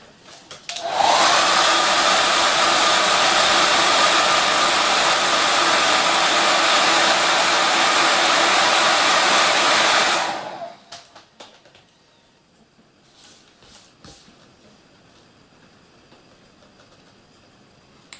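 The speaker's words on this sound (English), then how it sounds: "If you are using a very hot hairdryer, let it cool down before you put your second coat on." A hair dryer drying paint blows steadily and loudly for about ten seconds, then cuts off, leaving faint handling noises and quiet clicks.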